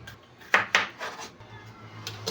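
Knife slicing bitter gourd (ampalaya) on a cutting board in a home kitchen, giving two sharp nearby chops followed by a few softer cuts and a low background hum.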